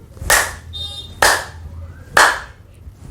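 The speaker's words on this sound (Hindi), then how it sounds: "ये अब आप ताली ऊपर बजाएंगे" Hands clapping overhead during an exercise routine, three sharp, loud, evenly spaced claps about a second apart, each ringing out briefly, with a faint hum between them.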